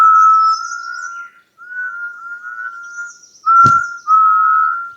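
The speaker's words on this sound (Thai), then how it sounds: "เสียงนกร้องเพลง" Clear whistled bird song on Doi Inthanon, Chiang Mai, Thailand, in long, steady phrases with short pauses, plus one sharp click partway through; no voices.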